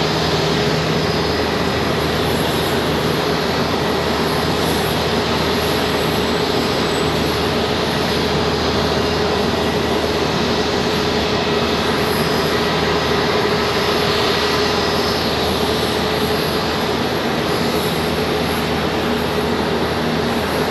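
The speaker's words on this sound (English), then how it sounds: "Got a Delta coming in over there right now." Steady, loud roar of a Delta airliner's jet engines at Charlotte Douglas International Airport, a continuous broadband rumble that holds level throughout with no talk over it.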